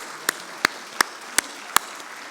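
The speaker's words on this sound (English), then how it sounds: "let's give the certificate students a big round of applause" Sparse, evenly spaced claps ring out at a winter graduation ceremony honouring certificate students, five distinct sharp hits in slow rhythm over a quiet room.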